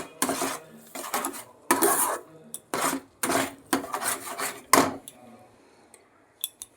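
Carrot firni with sugar being stirred in a pan, a spoon scraping and clinking against the metal in repeated bursts close by, with short quiet gaps between strokes.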